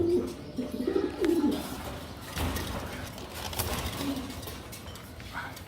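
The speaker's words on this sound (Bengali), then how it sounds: "এগুলো খুব হাই কোয়ালিটি কবুতর।" Baghdadi Huma fancy pigeons cooing at a pigeon farm, low soft coos repeating nearby with faint chirps and other birds in the background.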